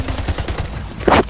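Plasma rifle fire in the first-person shooter Slipgate, a quick burst of rapid repeating shots followed by a sharper louder blast, close and alone with no talk.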